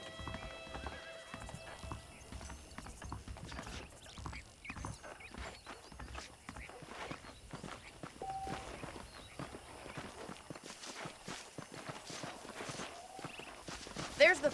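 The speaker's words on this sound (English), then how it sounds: "The horses are saddled up over here." Horse hooves clip-clop at a walking pace in the video game Red Dead Redemption, a steady rhythm of close, crisp strikes, with a whinny and some talking mixed in over the stretch.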